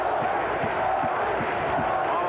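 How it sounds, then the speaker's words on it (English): A junior ice hockey crowd at a Tri-City Americans versus Portland Winterhawks game gives a steady, roaring reaction to a hit, a dense wash of voices and noise filling the arena. "You hear the crowd respond,"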